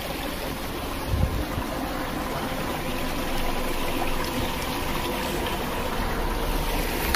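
A remote river flows steadily, giving a dense, continuous rushing wash of water close by that stays even throughout with no voices.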